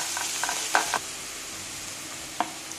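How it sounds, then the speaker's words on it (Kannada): Ginger garlic paste sizzles and fries in a pan while being stirred, a steady hiss broken by a few light scrapes and clinks of the spoon against the pan. "ಶುಂಠಿ ಬೆಳ್ಳುಳ್ಳಿ ಪೇಸ್ಟು ಹಸಿವಾಗ್ತೇನೆ ಹೋಗುವರೆಗೂ ಹುರ್ಕೊಳ್ಳೋಣ"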